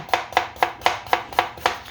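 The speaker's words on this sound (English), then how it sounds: "I'm just gonna cut them nice and thin." A knife thinly slices carrots on a board in a quick, steady rhythm, seven crisp strokes close by, with nothing else heard.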